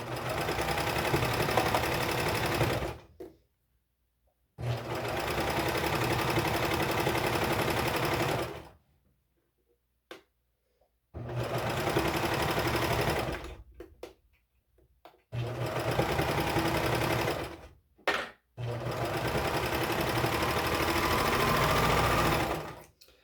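A serger sewing machine stitches a tank dress seam in several long, steady bursts of rapid mechanical whirring, separated by short pauses, loud and close with no talking.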